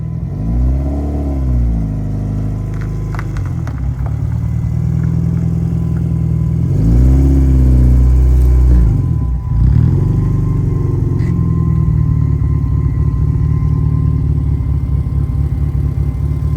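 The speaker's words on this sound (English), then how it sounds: "car sounds crazy, man" A Mazda Miata engine revs hard several times close up, each throttle blip rising and falling over a loud steady idle, with no talking.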